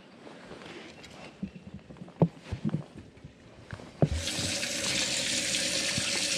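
Water is pumped into a boat's livewell on Truman Lake during a two-day fishing tournament, a few clunks and knocks on the boat first, then a steady rushing flow of water that starts abruptly and continues close by.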